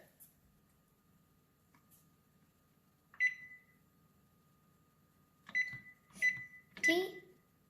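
Several sharp electronic beeps from an oven control panel being set to bake, one isolated tone followed by a quick cluster of three near the end, in a quiet kitchen.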